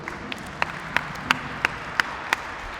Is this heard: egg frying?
no